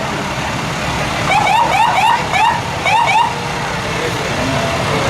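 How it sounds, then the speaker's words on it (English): Wailing sirens rise and fall in short repeated sweeps over steady traffic and crowd noise at a St. Patrick's Day parade in Fort Lauderdale, fairly close, with a low rumble of engines underneath. "I've never heard this many sirens before without being in some kind of trouble"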